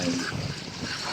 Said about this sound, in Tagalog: So medyo magalaw ang tubig pero sabi ko nga yan ay normal lang din sa karagatan